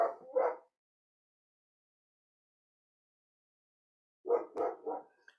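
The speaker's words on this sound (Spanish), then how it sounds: "Ahí ahora empieza este perro, no se entiende nada." A dog barks twice in quick succession, then silence, then a burst of three barks, moderately distant and alone.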